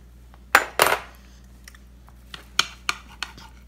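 A child cuts food on a plate with a knife, giving a few close scraping and clinking strokes against the dish, one louder pair of scrapes followed by lighter sporadic taps, with no talking.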